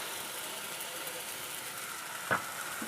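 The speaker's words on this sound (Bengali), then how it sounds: "টমেটো পেস্ট আর পেঁয়াজের সাথে একসাথে আমি ভেটে নেব" Tomato paste and onions fry in a pan for Bengali chicken curry, a steady close sizzle that holds throughout with one brief clatter near the end.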